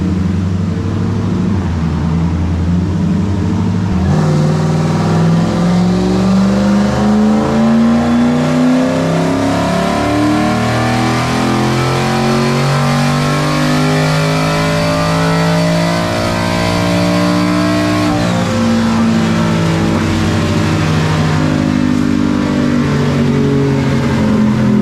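A big-turbo Ford Coyote V8 on a dyno, revving steadily upward over a long pull with rising harmonic engine tones, loud and continuous, then easing off near the end.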